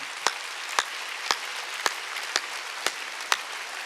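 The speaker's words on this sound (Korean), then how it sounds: "박수 세게 치고" A congregation at a Korean church service claps in unison, eight loud, sharp claps at an even, steady beat over a hissing background.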